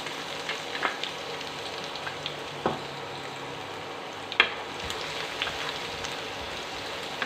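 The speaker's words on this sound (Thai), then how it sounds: "เราก็จะเจียวกระเทียมก่อนนะคะ" Garlic fries in hot oil with a continuous crackling sizzle, like light rain, broken by a few sharp clicks of a utensil against the pan.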